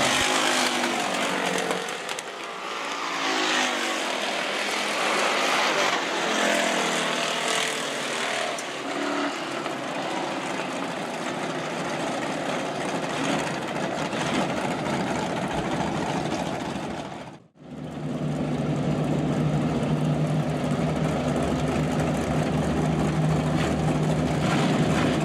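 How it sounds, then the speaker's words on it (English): Sportsman race cars roar around Rapid Speedway during a heat race, a loud, continuous buzzing engine drone that rises and swells, drops out for a moment, then resumes. "Checkers fly this time by your Sportsman heat race winner, the 14 machine of Brian Crone."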